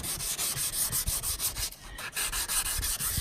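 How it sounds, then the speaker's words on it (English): Hand sanding of overspray on a car body panel during autobody repair, a close, steady rasping rub in quick rhythmic back-and-forth strokes with a brief pause midway, no voices. "Now we don't want to sand too much because it can go right through"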